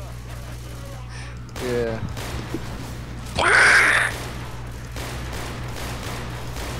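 Sniper rifle fire in the zombie co-op shooter Left 4 Dead 2, with two loud, sharp bursts a couple of seconds apart over a steady game-ambience hum, while a player speaks briefly.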